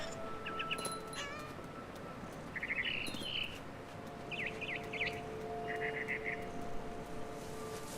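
A frightened barn swallow in the game What Remains of Edith Finch lets out quick, high chirps and trills in several separate bursts over a steady outdoor ambience, fairly clear but not loud.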